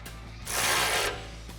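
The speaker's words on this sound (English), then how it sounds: "Thread on your nut and tighten it down." A ratchet clicks briefly while tightening a nut onto a bottom bumper stud of a Jeep Wrangler JK during a Barricade Trail Force HD front bumper install, a short close burst of rapid mechanical ticking.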